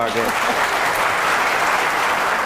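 Sustained applause from a debate audience, dense and steady throughout, with a voice briefly audible at the start.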